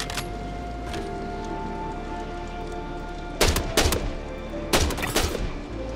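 In the Star Citizen shooter, a steady rain-like ambient wash gives way to two loud clusters of rapid gunshots, each a quick volley of sharp cracks, close and dominant with no voices.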